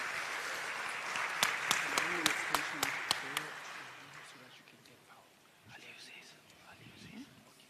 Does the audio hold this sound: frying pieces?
no